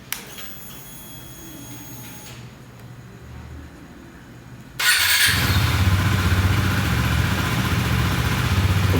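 A 2017 KTM Duke 390 motorcycle engine idles quietly, then abruptly revs up and holds a loud, steady roar around 3,500 RPM for several seconds.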